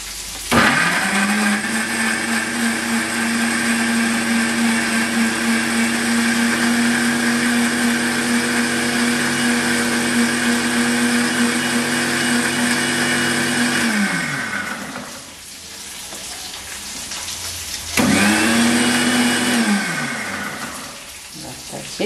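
Tomatoes being ground smooth in a mixer grinder for a garlic gravy: a loud, steady motor whine runs for about fourteen seconds, winds down, then starts again briefly before fading.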